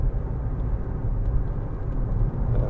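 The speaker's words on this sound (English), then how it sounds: "A little bit of tyre noise," Tyre roar inside a 2014 Audi A1 1.6 TDI Sport three-door diesel on the move, a steady low rumble filling the cabin with no breaks.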